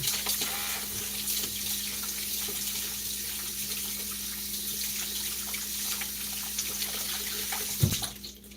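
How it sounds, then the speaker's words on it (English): Water runs steadily from a kitchen tap during handwashing, a constant close splashing flow with a low hum underneath and a brief knock near the end. "Let me just wash my hands."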